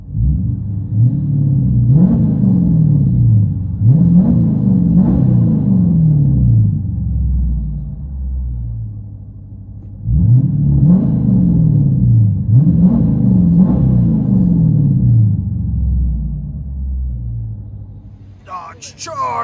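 A 2014 Dodge Charger R/T with a 5.7 HEMI V8, DynoMax race bullets, 5-inch tips and a mid muffler delete, heard from inside the cabin. It gives a loud, steady exhaust rumble with repeated rev swells, and a brief sharp noise comes at the end.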